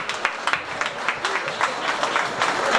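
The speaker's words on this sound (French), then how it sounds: "Je vous demande d'applaudir José Gros" A French audience applauds in a hall, a dense patter of clapping with sharp individual claps standing out, holding steady throughout.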